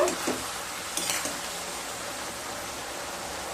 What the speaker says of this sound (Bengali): মাঝখানে একবার নেড়ে নেব।